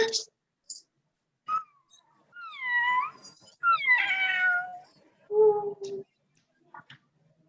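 A person imitates a cat, giving several drawn-out meows with rising and falling pitch, separated by pauses and a few small clicks.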